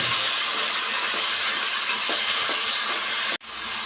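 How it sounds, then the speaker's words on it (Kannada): Food fries in oil in a pan for a village-style egg and lentil sambar, a loud, dense, continuous close hiss with faint taps underneath, cut off abruptly near the end and then resuming more quietly. "ಒಂದು ಸತಿ ಆಯಿಲಲ್ಲಿ ಈ ಥರ ಚೆನ್ನಾಗಿ ಫ್ರೈ ಮಾಡ್ಕೊಂಬಿಡೋಣ"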